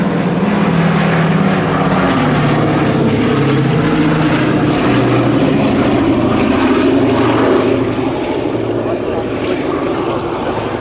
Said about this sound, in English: this last flying B-17 in Europe is so revered as an airborne memorial